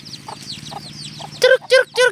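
Chickens being caught by the legs in a forest setting cluck loudly and close in three strong bursts near the end, after softer, higher bird chirps and faint clucks earlier.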